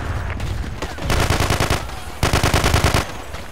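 Rapid gunshots in a video game come in two loud, close bursts of automatic fire, each lasting under a second, separated by a short lull.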